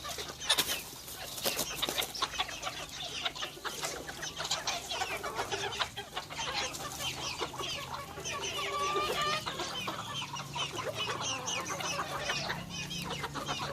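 Several bantam chickens, roosters and hens, cluck and squawk close by in a backyard, a busy overlapping chorus with occasional wing flaps, continuing throughout without any talking.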